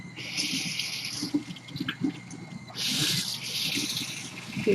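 Water runs from a tap into a rinsing bowl indoors, a steady splashing wash that swells louder partway through, with faint voices low underneath.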